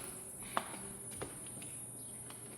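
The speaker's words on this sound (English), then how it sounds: "It sounds like cicadas." A faint, steady high-pitched drone of cicadas in the background, with a couple of soft footsteps nearby, at a house in Santee, California.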